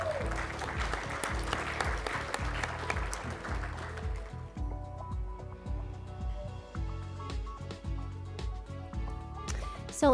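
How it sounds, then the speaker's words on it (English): Applause for the last panelists at a community college innovation forum, dense clapping through the first few seconds that then thins and softens while a steady tonal sound continues underneath. "Let's get them a round of applause"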